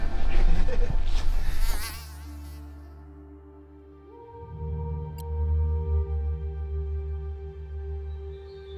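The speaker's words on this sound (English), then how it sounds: "It's not like there's a lot of bugs around here." Insects buzz around a campsite at the start of the Alexander Mackenzie Trail, a broad rustling burst at first giving way to a steady, droning hum close by, with no talking.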